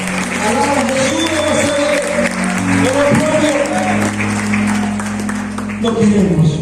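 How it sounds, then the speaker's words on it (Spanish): Church congregation applause during a worship service, steady clapping under loud sustained music or organ tones and voices, the clapping dense but partly masked by the accompaniment. "Denle un fuerte aplauso a Cristo en la gloria."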